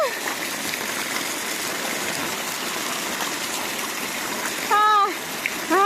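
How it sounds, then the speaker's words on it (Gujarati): Floodwater rushes steadily through a home garden after about nine inches of heavy rain, a constant close broadband gush throughout, with a brief voice near the end. "આમ પાણી તો જોવો મારા બગીચામાં."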